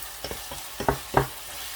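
Chicken masala boti with onion scraped and stirred in a pan as it fries, a few separate stirring strokes over a faint sizzle, close and moderately loud.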